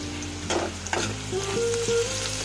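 Ginger paste spattering in hot oil, a close steady sizzle broken by sharp pops and spits, with utensil clinks and a faint tonal hum in the background; no talking.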